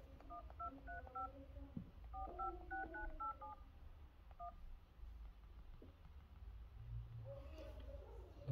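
An iPhone 11 Pro keypad sounds a quick series of short dialing tones, grouped in brisk runs during a phone check after a screen replacement, fairly faint against a quiet room.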